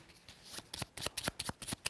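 A deck of cards is riffled and shuffled in quick crisp bursts during a solo tabletop card game, a rapid run of papery snaps up close with no voices.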